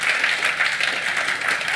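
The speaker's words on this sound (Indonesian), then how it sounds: "Tepuk tangan buat Tuhan." A church congregation claps together in sustained applause, a dense, even patter of many hands filling the room at steady loudness with no pauses.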